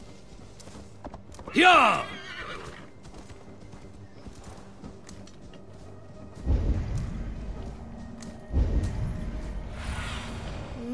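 Horse hooves clip-clopping in the Assassin's Creed Valhalla video game, a steady rhythmic plodding under background game ambience, with a short shout early on and louder rumbling swells later.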